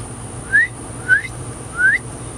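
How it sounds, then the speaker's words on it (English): Three short rising whistle notes, evenly spaced and clear, call dogs in from the back of a yard, each a quick upward sweep over a faint background hum. "I have a whistle, apparently y'all listen."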